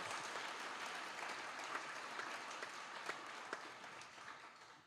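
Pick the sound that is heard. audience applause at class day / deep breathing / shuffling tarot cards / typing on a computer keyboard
audience applause at class day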